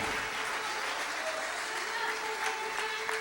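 A church congregation applauds the Lord during a Spanish-language sermon, steady broadband clapping that fills the whole stretch evenly, with faint voices mixed underneath.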